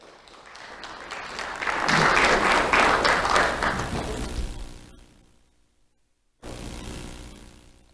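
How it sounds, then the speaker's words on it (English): Audience applause for two honored elementary students at a community awards ceremony, swelling to a loud dense peak, tapering into silence, then a second burst of clapping returns. "Let's have a round of applause for Edgar and Lazaro."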